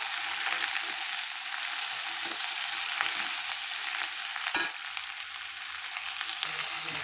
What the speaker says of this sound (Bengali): সব কিছু সবজি দিয়ে আমি ভালো করে নেড়ে নেব।